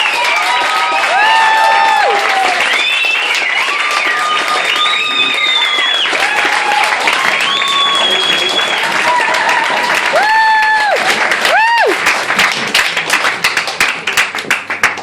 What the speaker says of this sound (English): Let's go with a little quiet clap from Steve